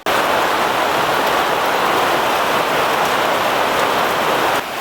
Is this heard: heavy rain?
yes